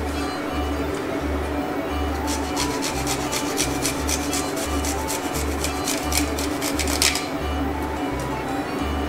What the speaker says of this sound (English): I'm going to grate my garlic.